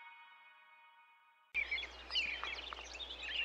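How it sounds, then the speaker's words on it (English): Birds sing in woodland, bright chirps and trills scattered over a soft background hiss, following a short sustained tone at the start. "She loved listening to the birds singing."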